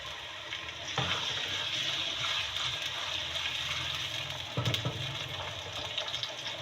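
Onions sizzle steadily in a pan as garlic-ginger paste goes in for a dhaba-style matar keema, a continuous close frying hiss with a couple of stirring scrapes and no talk.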